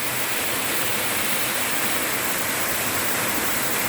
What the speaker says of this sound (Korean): 입구에 이렇게 폭포 이렇게 있어요 이렇게 계곡이